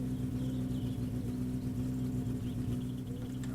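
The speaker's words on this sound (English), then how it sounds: "Sounds like it's kind of idling down on its own." A car engine in the video game My Summer Car idles steadily with a low, droning hum, holding even and continuous throughout without revving.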